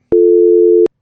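A landline phone in a podcast studio sounds a single loud, steady electronic tone of under a second, starting and stopping abruptly, with no voices over it.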